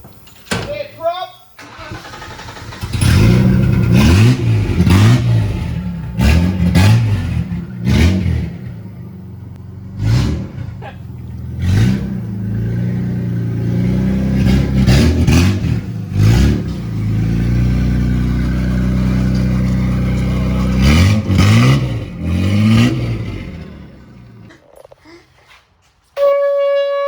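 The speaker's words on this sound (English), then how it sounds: "we need to get that exhaust fixed" A Mk3 car with a loud broken exhaust revs repeatedly in sharp bursts, then holds a steadier rumble before cutting off, with people talking nearby.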